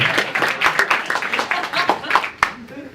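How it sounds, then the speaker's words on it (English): An audience at a literary society's evening event claps in a burst of overlapping hand claps that gradually thins to scattered claps, with one sharp clap near the end and a voice starting over the fading applause. "Your generous clapping is very much appreciated by my dogs."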